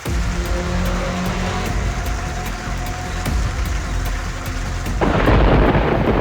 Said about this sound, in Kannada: ಉಡಿಗಾಲ ಸೇರಿದಂತೆ ಹಲವು ಗ್ರಾಮದಲ್ಲಿ ಗುಡುಗು ಸಹಿತ ಮಳೆ ಅಬ್ಬರಿಸಿದೆ.